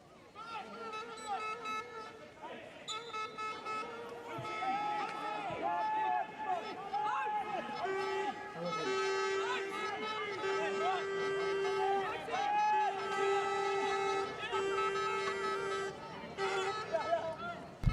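Noisy crowd of spectators at an East Grinstead versus Hampstead & Westminster men's 1st team match, with many overlapping voices, shouts and calls forming a lively, continuous din at moderate distance throughout.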